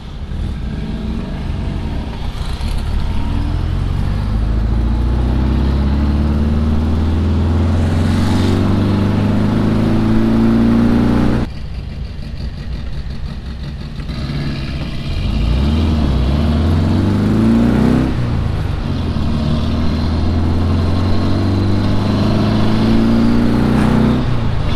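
A low Volkswagen hot rod rolls past at a Cars and Coffee show, its engine rumbling and revving loudly up close, easing off briefly midway before pulling away again.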